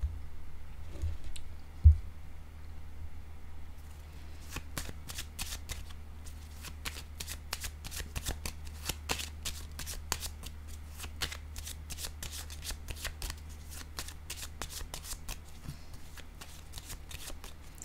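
Tarot cards shuffled by hand: a long run of quick, crisp riffling clicks and flutters in irregular bursts, close and fairly quiet over a low steady hum, with no one speaking.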